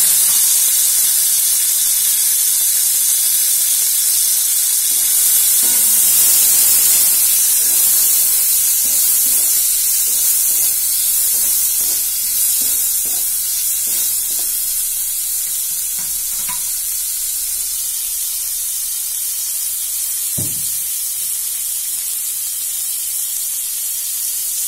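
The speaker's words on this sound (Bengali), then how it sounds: "এবার আমরা কড়াইতে লোটেগুলো দিয়ে ফ্রাই করে নেব।" Dried Lote fish frying in a kadai, a steady loud sizzle and hiss running throughout with occasional stirring scrapes and spatters, no voices.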